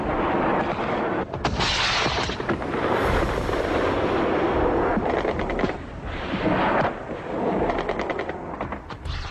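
Heavy wartime bombardment from Soviet air attacks on guerrilla positions, with loud, dense bursts of gunfire, machine-gun rattle and booming explosions continuing almost without pause.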